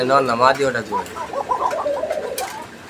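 Close, repeated pigeon coos roll in a soft throaty rhythm, with a person talking over them.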